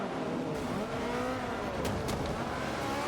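A vintage race car in Forza Motorsport 5 holds a loud, continuous engine and exhaust drone, pitch sweeping up and down through gear changes, close and alone without talk.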